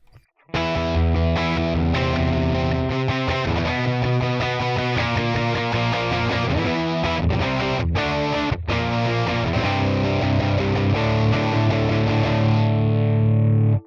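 A Les Paul electric guitar is played through a Tonex One amp capture from a character amp collection, giving a distorted, saturated tone. Chords and riffs ring out loud and close without a break for about thirteen seconds.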